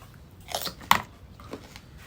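A few crisp bites into crunchy mango, loud and close, with sharp crunches and a brief chewing crackle in between, no voices.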